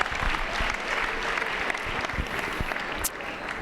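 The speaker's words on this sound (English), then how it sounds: "let's give our future wreckers a nice round of applause." Audience applause at a high school transition night, a dense steady wash of many hands clapping throughout with a brief whoop or shout near the end.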